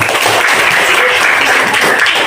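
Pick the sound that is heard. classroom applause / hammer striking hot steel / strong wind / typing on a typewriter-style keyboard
classroom applause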